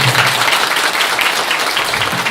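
Sustained audience applause at a talk on environmental popular action lawsuits: dense, steady clapping from a crowd that fills the whole stretch, loud and close.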